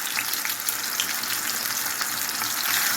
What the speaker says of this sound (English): I'm gonna let them sear until they get a nice brown.